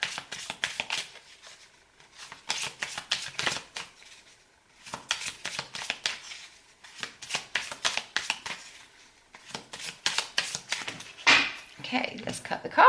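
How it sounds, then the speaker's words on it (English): A deck of oracle cards being shuffled and cut by hand, repeated bursts of crisp riffling flutters separated by short pauses, close and fairly quiet, with a voice speaking at the end. "Okay, let's cut the cards."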